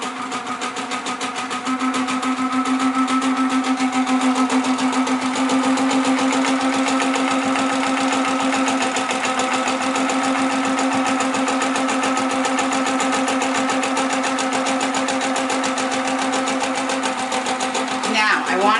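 A Handi Quilter Sweet Sixteen quilting machine runs continuously, free motion stitching, with a fast mechanical stitching rattle and motor hum, close and steady, slowing briefly near the end.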